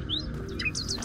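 Bird chirps from the game Amnesia: Enigma, a few sharp high tweets repeating at intervals over a low rumbling ambient drone, fairly close and clear.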